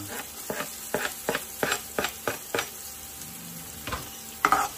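Onion and garlic stir-frying in a pan for pork belly sinigang, with a steady soft sizzle and a regular series of scraping stirs, close and fairly quiet.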